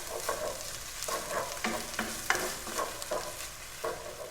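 Tomato paste stirred into pasta sauce in a pan for spaghetti, giving repeated soft scraping strokes about every half second over a light, close sizzle.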